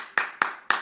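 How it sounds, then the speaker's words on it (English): Three sharp, close slapping claps of a booty-clapping effect land at steady intervals, each a crisp smack that fades quickly, with no other sound around them. "Booty clapping sounds!"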